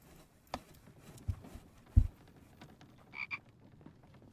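Frogs in a video game let out a few scattered croaks amid game sounds, including a short higher double call near the end, with soft impacts marking frogs being killed.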